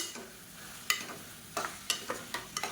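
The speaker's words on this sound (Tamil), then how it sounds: "இப்போ இதையும் எண்ணெயில் சேர்த்து வதக்கி விட்டுக்கலாம்" Sliced radish sautéing in oil in a pan for a radish egg kulambu, with a soft steady sizzle under several sharp clinks and scrapes of a spatula stirring, close by and fairly quiet.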